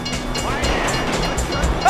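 A train rumbles past in the GTA 5 video game, a loud continuous rolling clatter with faint rhythmic wheel clicks, heard alone without talk.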